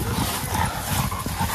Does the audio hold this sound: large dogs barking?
yes